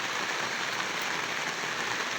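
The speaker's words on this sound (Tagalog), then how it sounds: "mahangin-hangin pati. May kasamang hangin yung ulan." Rain falling with wind under an open, roofless spot during a sudden downpour: a dense, steady hiss of drops, constant and fairly soft, with no voices.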